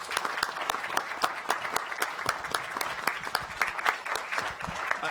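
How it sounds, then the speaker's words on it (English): An audience at a county council session applauds the Viennese officials with sustained clapping from many hands, crisp individual claps standing out in a steady rhythm. "I'd like to just have a round of applause for the Viennese officials."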